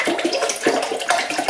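Water poured straight into a houseplant's pot, a steady close splashing trickle with slight surges, no voices.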